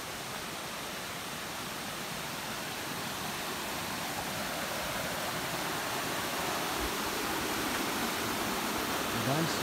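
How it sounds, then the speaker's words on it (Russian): A small waterfall in Khao Phanom Bencha National Park, Thailand, rushes in a steady, broad hiss of falling water heard close by, unchanging throughout, with only a faint thump near the end. "Водопадик."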